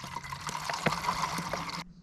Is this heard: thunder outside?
no